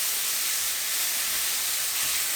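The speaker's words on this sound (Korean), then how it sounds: "미리 만들어 놓은 양념을 넣고 약불에서 볶아줍니다." Seasoned dried shredded pollack stir-fried in a pan over low heat gives a steady, even hiss of sizzling, with no pauses and nothing else standing out, and no one speaking.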